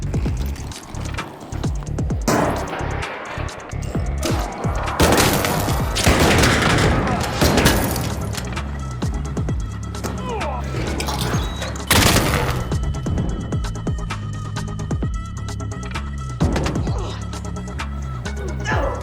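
Dense, sustained gunfire in the video game ARC Raiders with repeated bursts and booming impacts, loud and continuous throughout with little pause.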